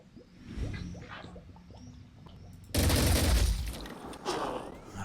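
Gunfire erupts in the turn-based strategy game Phoenix Point, a sudden loud burst of shots following quieter rumbling and clicks, then a second weaker blast shortly after.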